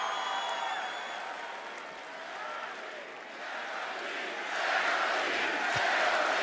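A wrestling arena crowd at a Raw broadcast cheers, chants and applauds continuously, a loud roaring wash of voices and clapping that swells toward the end.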